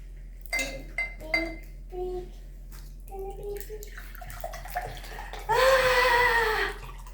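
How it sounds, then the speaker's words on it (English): Water poured into a drinking glass, with several glassy clinks and taps first, then a rising pour near the end, close and fairly loud. "Vienna, can I have a drink of water, please?"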